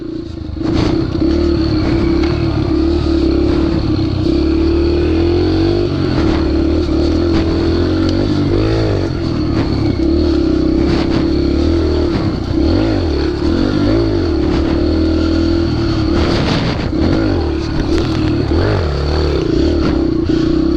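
A pit bike engine revs hard in first gear on a jungle trail, loud and close, its buzzing drone rising and falling in pitch with rattly clatter throughout and no talk.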